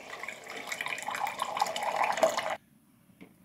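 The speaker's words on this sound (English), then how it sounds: "Keep holding the hot button down until water starts flowing." Water runs steadily from the hot tap of a Drinkpod 900 series dispenser, a continuous close stream that stops abruptly, leaving near silence with a faint drip.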